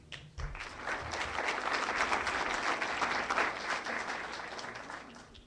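An audience at a book presentation on church, independence and revolution breaks into applause for an invited speaker, a dense wash of many hands clapping that swells, holds steady and then slowly tapers off.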